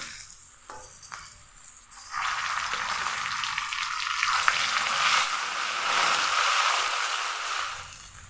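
Ginger-cumin paste hitting fish roe frying with onion in hot oil, a quiet start jumping into a steady, close, crackling sizzle that holds to the end.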